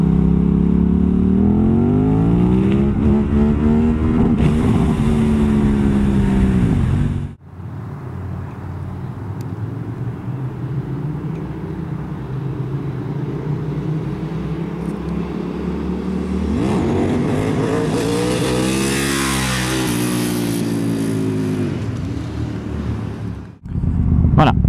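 Motorcycle engine droning steadily while the rider holds wheelies, the pitch rising and sagging as speed changes, with a brief cut near the middle and loud wind rush over the bike.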